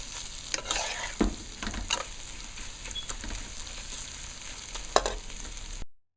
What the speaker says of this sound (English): So I'm gonna fry it up a little until the oil is well blended and the seasoning is well blended into the rice.